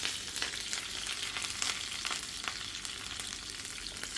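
Onion and curry leaves fry in hot oil as a tempering for a Kilakarai-style dried seer fish curry, a dense steady crackling sizzle throughout, close and even, with no voices.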